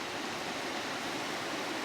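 A river swollen after Storm Babet rushes past in a steady, loud broadband roar of fast-moving water, continuous and close with no voices.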